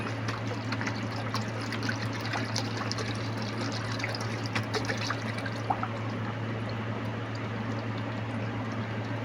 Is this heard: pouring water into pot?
yes